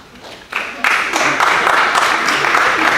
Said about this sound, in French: Est-ce qu'on peut applaudir les filles quand même de